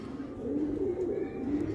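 Pigeons in a loft cooing, a low throaty warble repeating close by with a soft murmur of voices in the background.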